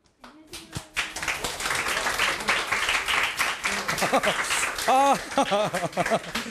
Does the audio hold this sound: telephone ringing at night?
no